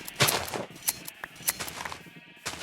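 Sheep in Minecraft bleat in short, repeated calls that overlap one another in a crowded flock, with sharp clicky game sounds mixed in.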